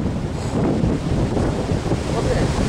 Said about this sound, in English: still the wind is blowing from southeast direction